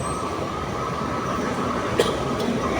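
A passing train gives a steady, loud rumble of rolling wheels and carriages, with a couple of faint clanks near the end and no talking.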